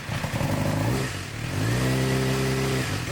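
A Suzuki GSX-R 600 sport bike engine revving close by during a rebuild, a loud steady buzz that dips briefly and then climbs into a higher, held rev.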